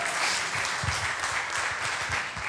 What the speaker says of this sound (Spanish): Un aplauso por el coraje que tiene